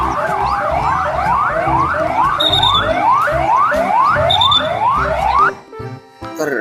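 A toy police car siren whoops in rapid, repeated rising sweeps, loud and close, with a higher chirping tone layered in twice, before stopping suddenly and leaving a few faint clicks.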